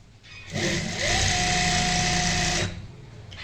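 A sewing machine stitches four fabric panels together in one sustained run of about two seconds, starting up with a rising whine, then a steady fast motor buzz before stopping abruptly.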